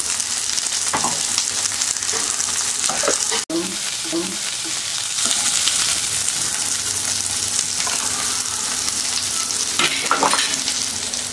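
Onions fry in a pan for a fenugreek curry, giving a loud, continuous sizzle with occasional stirring and scraping, one sharp clack near the start and a few utensil knocks later on.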